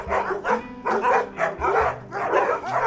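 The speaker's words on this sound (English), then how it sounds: "I've been greeted with a doggy welcome" A dog near a lodge along a long-distance walking route in Britain barks repeatedly in greeting, a steady run of loud, close, evenly spaced barks with no talking.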